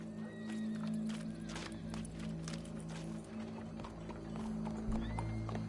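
Horse hooves clip-clop at a walking pace in Red Dead Redemption 2, a steady rhythm of soft thuds over low game ambience and a humming drone, with a horse neighing faintly.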